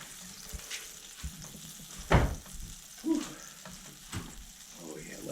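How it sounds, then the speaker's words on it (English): Walleye fillets fry in a hot pan with a steady background sizzle, broken by a few louder crackling bursts and spatters as pieces are moved or added, close by. "let her sizzle"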